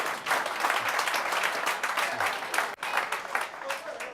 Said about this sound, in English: a big round of applause for everyone that helped with this